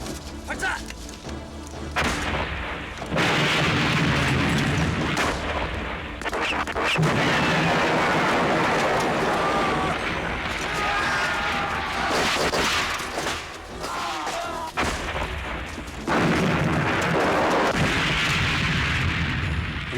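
Artillery fires in a 1990 Korean war film about partisans in the south: a loud, sustained barrage of booms and blasts, with voices mixed into the din.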